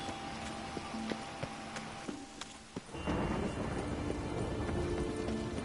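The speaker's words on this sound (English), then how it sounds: "A storm, damn it." Thunder and rain sweep through a stormy scene in The Witcher 3, with scattered sharp cracks and a dull rumble before a steady, louder rain wash takes over.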